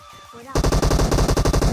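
Rapid automatic gunfire in PUBG Mobile, a loud, close burst of evenly spaced shots that starts abruptly and keeps going, following a quiet moment.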